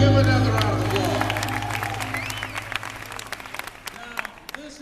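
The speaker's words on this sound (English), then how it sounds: "Give another round of applause." An audience's applause is loudest at the start and thins gradually into scattered claps over a few seconds, with some crowd murmur and a voice underneath.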